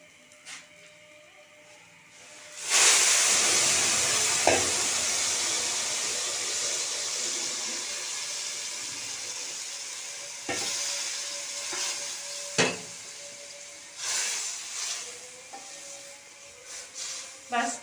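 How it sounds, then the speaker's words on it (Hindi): Boiled water pours into a hot pan of frying vermicelli for sweet seviyan, erupting into a loud, sustained sizzle that slowly fades, with occasional clinks and stirring sounds. "अब इसको उबले हुए पानी इसके अंदर मैं ऐड करूँगी।"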